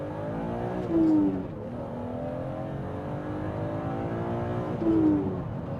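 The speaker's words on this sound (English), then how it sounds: "These BMW straight sixes are just so magical. It's the zing and the fervour with which they rev" A BMW Z3M Coupe's straight-six, revving to almost 7,500 rpm, pulls hard through the gears, its rising whine climbing steadily with two brief dips at each upshift, heard from inside the car with no talk over it.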